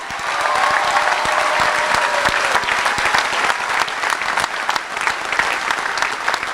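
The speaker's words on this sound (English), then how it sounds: "St. George's University graduating class of 2017, you deserve a round of applause" A large crowd applauds the St. George's University graduating class of 2017 at a Grenada commencement, sustained loud clapping with a few sharper individual claps standing out near the end.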